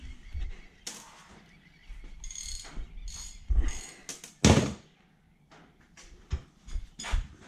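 Roll pins are punched out of an idle speed control valve from a 1UZ-FE engine: sharp metallic clicks and knocks in uneven bursts, close up, with short scraping and rattling between strikes.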